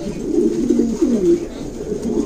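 Pouter pigeon hens coo in a low, warbling, rolling tone, close and fairly loud, in one continuous throaty phrase with no talking over it.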